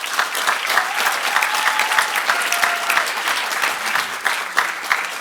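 A debate-competition audience applauds a finalist, a sustained, even burst of many hands clapping at moderate distance, filling the whole stretch with crisp overlapping claps and a faint crowd murmur beneath.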